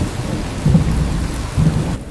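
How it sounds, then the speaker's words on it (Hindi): Heavy rain pouring steadily with low rumbles of thunder swelling twice, loud and close, with no voices. "बारिश अब भी वैसी की वैसी तेज होती रहती है।"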